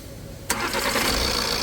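A car with a turbo and drivetrain fault cranks and fires up about half a second in, then settles into a steady, close, loud idle with no talking.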